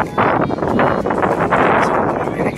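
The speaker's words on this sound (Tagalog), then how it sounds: "napakalakas ng hangin" A strong storm wind blows under cloudy skies, buffeting the microphone with loud, gusty rumbling and rustling that surges and dips over a few seconds.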